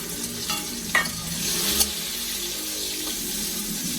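Cashew nuts fry in hot ghee with a bay leaf for basanti pulao, a close continuous sizzle broken by a few sharp stirring clicks and scrapes.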